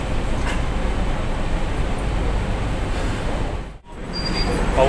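A Kolkata metro train pulls into Dakshineswar station. A loud, steady rumble of wheels and motor fills the carriage, then dips briefly and builds again.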